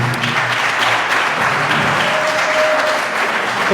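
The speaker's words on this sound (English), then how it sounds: "How about a louder applause for Concha and the special members of Dudley" Steady, full applause from a Rotary Club audience at a club event, a dense continuous clapping wash that holds at an even level throughout with no break.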